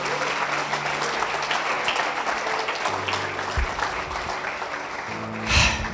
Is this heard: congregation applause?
yes